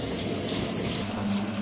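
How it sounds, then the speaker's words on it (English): Hot water runs steadily from a tap into a sink while hands are washed, a close, continuous hiss and splash at even loudness. "I love how the water's hot straight away."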